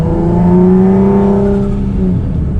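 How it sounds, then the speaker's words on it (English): Engine drone inside a moving car with windows up, a turbo's rising whirring spool from underneath, then easing off near the end; loud and close, no talking. "I feel like I can hear the turbo a lot more now"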